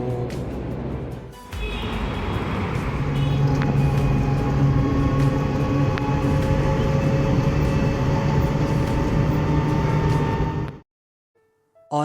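A loud, steady rumble of a Delhi Metro train running past close by, with tonal whine, ending abruptly into near silence.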